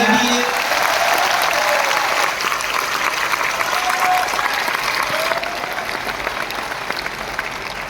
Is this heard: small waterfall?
no